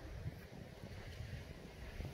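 Strong wind gusts on open land with eucalyptus overgrowth, a steady broadband roar with low rumbling buffets against the microphone, no voices present.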